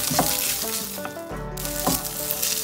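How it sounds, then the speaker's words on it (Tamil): Ginger garlic paste and onions sautéing in a pan for broccoli cutlets, a steady close sizzle with a few spoon stirs, under a faint musical backdrop. "இஞ்சி பூண்டு பேஸ்டோட பச்சை வாசம் போகிற அளவுக்கு நம்ம வதக்கலாம்"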